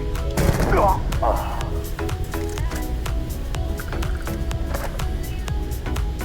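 Rapid automatic fire from the Rapidshot rifle in Starfield, a dense run of sharp repeated shots over game ambience, loudest in the first two seconds then continuing in scattered bursts.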